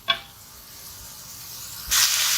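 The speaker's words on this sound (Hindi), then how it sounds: "ये हमारा अच्छी तरह फ्राई हो गया।" Potato and minced-meat tikki mixture frying in a pan: a quiet steady sizzle, a brief clack near the start, then a sudden louder hiss that holds to the end, close by with no talking.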